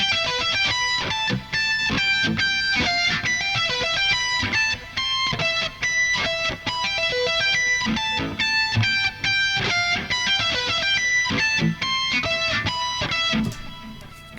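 Epic metal lead guitars from Toontrack EZGuitar in a dark symphonic arrangement, sustained melodic lead notes over chugging rhythm and drums, loud and dense for the whole stretch, no talking.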